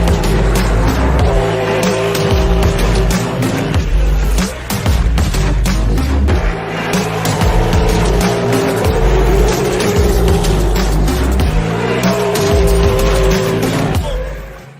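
A tuned car making about 1,200 horsepower on 2.5 pounds of boost roars loudly and continuously, engine noise and tire squeal filling the whole stretch with only brief dips.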